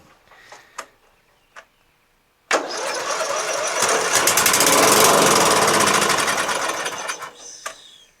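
A Murray widebody lawn tractor with a 12.5 HP Briggs & Stratton flathead engine and zero compression fires up after a few faint clicks and runs loud and close for about five seconds with a rough, buzzing roar before dying away.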